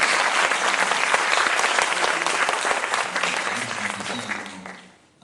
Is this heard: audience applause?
yes